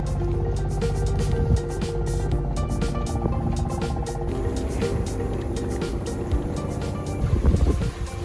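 A sailboat under way at about six to seven knots at sea near sunrise, with constant wind buffeting and water rushing along the hull, a steady loud wash with occasional knocks and creaks.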